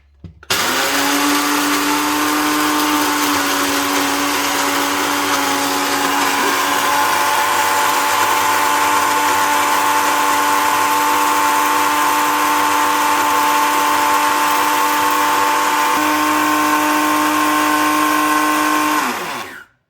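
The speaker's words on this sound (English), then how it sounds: "So let's give it a blend. And yep, it's about to get loud." A loud electric blender grinding dried chillies roars continuously at high speed, a steady grinding whir that runs unbroken for a long stretch before cutting off abruptly.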